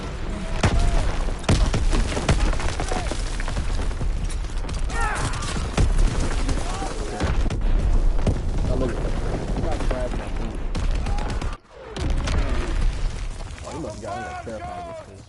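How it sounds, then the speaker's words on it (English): Call of Duty WW2 battlefield with incoming artillery and gunfire: dense, continuous loud barrage of shots and blasts, briefly cutting out before resuming, with game voice callouts mixed in. "Incoming enemy artillery. Get to cover."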